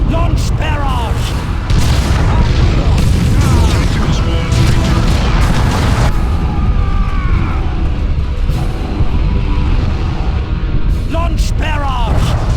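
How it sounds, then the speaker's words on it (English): Repeated heavy booms of an artillery barrage in Dawn of War II, loud explosions rolling one after another over a constant rumbling battle bed, with brief voice lines cutting in. "Launch barrage!"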